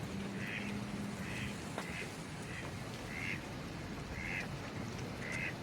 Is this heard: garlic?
no